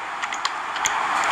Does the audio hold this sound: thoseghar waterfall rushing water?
no